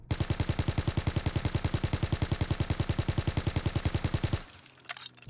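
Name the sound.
gunfire recoil test at gun range in Call of Duty WWII video game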